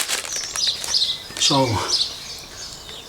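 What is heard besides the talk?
garden birds singing in chorus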